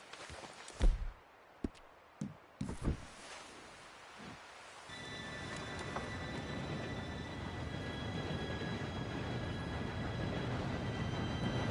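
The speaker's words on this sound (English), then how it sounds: "Train should be here any minute now." Train arriving in Red Dead Redemption 2: after a few scattered footsteps and knocks, a steady rumbling roar of rolling wheels builds in the distance with a faint high squeal.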